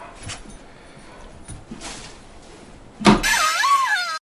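Dog indoors reacting as if someone is outside, with faint scattered knocks and shuffles, then a close, loud whining cry near the end that wavers in pitch.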